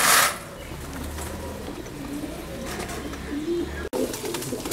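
Black and red Jacobin breeder pigeons on a fancy pigeon farm coo in soft low repeated phrases, with faint ambient noise and a brief loud rustle at the very start.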